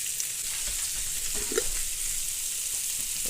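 Italian sausage and sauerkraut frying in one pan, a steady close sizzle and crackle throughout with a brief soft clatter as a piece is flipped.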